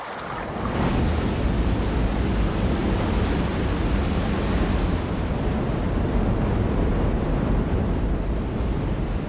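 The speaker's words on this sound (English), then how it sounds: "This is Niagara Falls, one of the wettest and wildest places on Earth." Niagara Falls pours with a thunderous, unbroken roar of rushing water, a dense steady wash that stays loud and constant throughout, with no voices.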